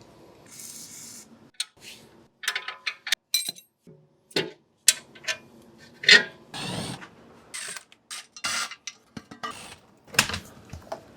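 A 21 mm wrench turns on a steering rack bolt while a T30 Allen key braces against the control arm on a BMW G20 330i, giving scattered close metallic clinks, ratcheting clicks and scrapes in irregular bursts.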